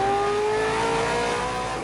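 Two-time touring car champion Glenn Seaton's muscle race car on a damp track roars loudly through a hairpin under power, with a steady high engine whine held throughout.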